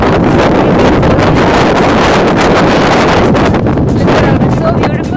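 Strong wind blasting across snowy Khardung La in Ladakh, a loud continuous roar of buffeting gusts hitting the microphone, steady throughout.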